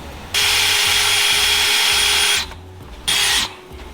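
A power drill with a bent bit whirs loudly for about two seconds while drilling a pilot hole, stops, then gives a second short burst, with faint knocking in the background.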